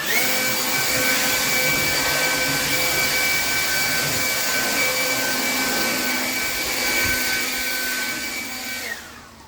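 Leaf blower clearing leaves off a front porch, a steady loud motorized roar with a high whine holding constant for about nine seconds before cutting off at the end.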